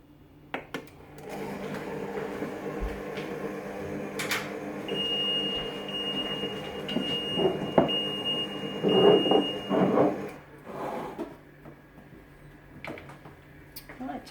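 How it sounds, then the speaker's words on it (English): A ThermoCook TC PRO M 2.0 kitchen machine mixes chicken and quinoa salad ingredients on reverse speed 1, giving a steady low motor hum with a faint high whine for about ten seconds before winding down, with no talk over it. "we are going to just mix that carefully on reverse speed, speed 1, for 10 seconds"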